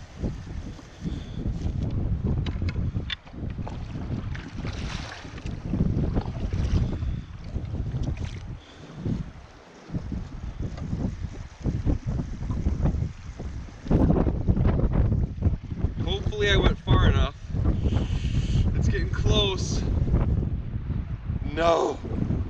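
Strong wind buffets the microphone while a boat is paddled on open water, a steady loud roar with gusts, water splashing and someone talking throughout.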